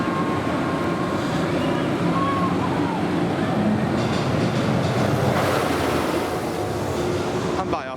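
The Millennium Force roller coaster train at Cedar Point roars past overhead with a sustained rumbling clatter, mixed with crowd noise and a voice talking.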